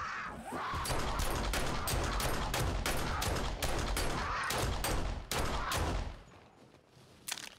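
Rapid pistol gunfire in the video game 7 Days To Die, a dense run of loud, sharp shots for about six seconds that thins out and stops near the end.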